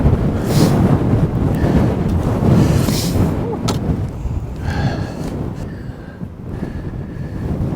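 Strong wind buffets the microphone on a golf course, a steady loud rushing roar that holds for several seconds with faint voices underneath.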